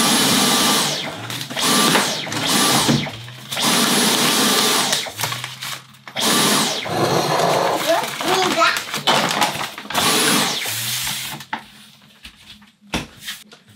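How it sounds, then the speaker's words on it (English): A household vacuum cleaner runs in loud bursts that start and stop repeatedly, with a child and an adult talking over and between the bursts. "You're all done vacuuming?"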